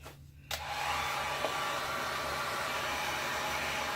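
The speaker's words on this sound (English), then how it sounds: "you're just going to heat up the ring and the resin around it" Heat tool warming a metal ring set in resin: a steady, loud blowing whoosh switches on after half a second and runs unbroken, alone, with a faint low hum beneath.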